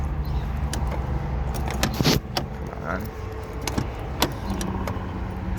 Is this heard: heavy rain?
no